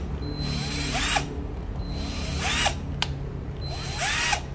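Black & Decker 10.8V cordless drill spinning in three short bursts, each a steady high whine about a second long that winds up and spins down, close and fairly loud, with a sharp click between bursts.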